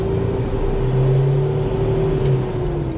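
A 1993 Toyota pickup truck with a 5-speed manual pulls away, its engine note rising and then holding steady in a close, continuous rev.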